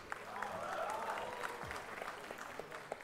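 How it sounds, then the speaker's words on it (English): Applause from an audience at a business school convocation as the PGPM graduating batch is called, a steady wash of clapping with some crowd murmur, moderately loud and continuous for a few seconds. "Some applause for your batchmates"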